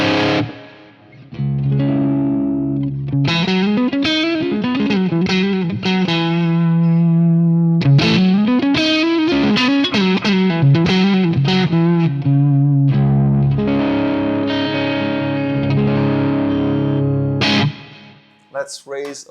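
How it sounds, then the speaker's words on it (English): A distorted electric guitar played through a Boutique Tones BT MkV pedal chugs palm-muted riffs between sustained, ringing chords, loud and upfront with a touch of effects and no talking. "So the chug when you palm mute are not as tight as you would have had with a bigger amount of gain or a different preset"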